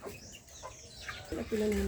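Chickens cluck and call a few times at close range over outdoor background noise, with a louder burst of clucking near the end.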